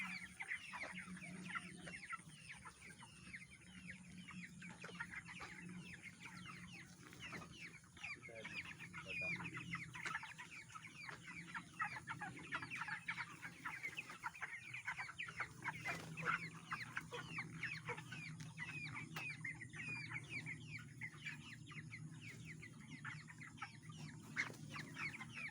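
Broiler chickens inside a poultry farm in Assam cluck and chirp continuously, a dense, steady flock chorus heard up close with a low hum of farm machinery underneath and no talking.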